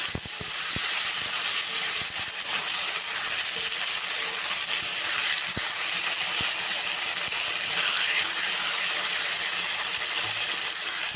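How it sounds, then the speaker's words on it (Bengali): Cumin and ginger paste fries with vegetables in a pan, making a constant hissing sizzle with scattered sharp clicks and taps from a utensil, close by and without talk. "মশলার সাথে জিরে আদাটা ভেজে নেবো, কষিয়ে নেবো"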